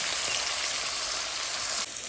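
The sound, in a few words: onions frying in oil with garlic, mustard, cumin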